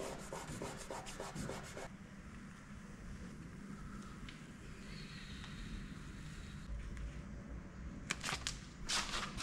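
Sticker being rubbed and smoothed onto a Scania V8 truck, continuous close scraping and rubbing with a few quick rhythmic swipes at the start and end.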